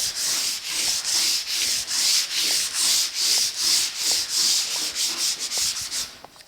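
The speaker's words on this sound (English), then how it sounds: "80 grit on the edge with my thumb. And then I'll just kind of go over the whole area." 80 grit sandpaper is worked by hand along the door edge of a 1950 Chevy truck, about fifteen even back-and-forth strokes, loud and close, with no talking.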